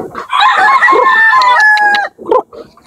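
A Papay Gray over Golden Boy gamecock crows loudly and close, one long drawn-out cock-a-doodle-doo followed by a couple of short clucks.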